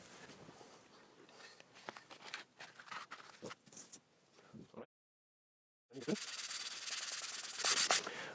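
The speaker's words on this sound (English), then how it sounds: "For the sanding itself, I use sanding paper with roughness 100" Rough, scratchy 100-grit sandpaper rubbing on a fiberglass fin in bursts, pausing briefly into silence, then a steady, louder stretch of continuous sanding close by.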